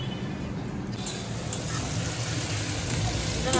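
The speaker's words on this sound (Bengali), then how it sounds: "আলু ভাজা হচ্ছে, এখানে পটল ভাজা বাকি আছে।" Potatoes fry in hot oil in a home kitchen, giving a steady, close sizzle and hiss that runs unbroken through the whole stretch without pause.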